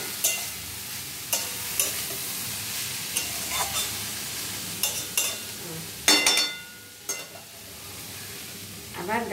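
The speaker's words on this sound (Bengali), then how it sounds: "ঢাকাটা তুলে এবার আর একবার একটু নেড়ে দিচ্ছি।" Bottle gourd skin fries in a pan while a utensil stirs it, a steady sizzle broken by intermittent scraping and clinking strokes, close and fairly loud with no talking.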